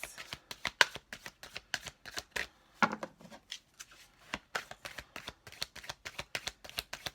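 Tarot cards are shuffled by hand in a quick, rhythmic run of crisp riffles and soft taps, close and fairly quiet, with a brief pause midway.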